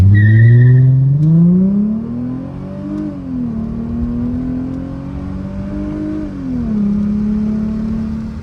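A Chrysler Crossfire launching hard with its tires spinning on pavement, loud engine revving up through rising whining pitch, with shifts and renewed climbs, close and alone.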